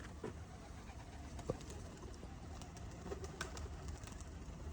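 Hobby pigeons, including young birds learning to use a trap, coo softly in a quiet outdoor setting, with a few faint low calls spread across the stretch and a car passing distantly.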